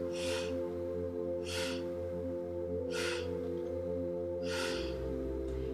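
Slow, steady breaths during a tai chi session, with four soft airy exhales spaced about 1.5 seconds apart over a low continuous background hum.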